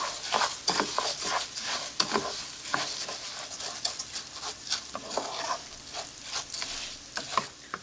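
Rice tossed with garlic in a hot pan for Mexican white rice, giving a steady bright sizzle broken by frequent scraping stir strokes, close and fairly loud with no voices.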